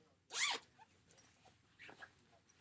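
A plastic zipper on a Vera Bradley satchel zipped in one quick, close pull, followed by faint soft handling sounds in a quiet room.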